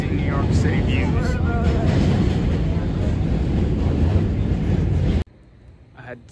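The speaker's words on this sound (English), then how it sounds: "Hopping on this train." A New York City train rolls along in a loud, steady rumble with wind and track noise, and voices are faintly mixed in before the sound cuts abruptly to near quiet.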